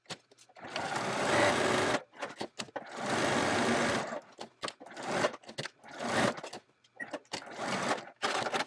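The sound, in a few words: sewing machine stitching seam on Halloween bag applique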